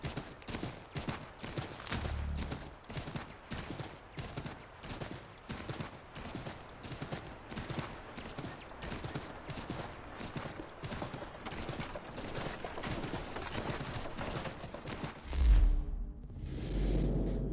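Rapid, steady hoofbeats of a galloping horse in the video game Assassin's Creed III fill the clip, a continuous rhythmic drumming at close range, with a brief thump near the end.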